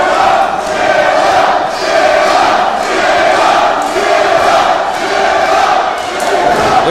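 A sold-out wrestling arena crowd roars and cheers steadily, a dense wall of voices with chanting swells rising and falling throughout.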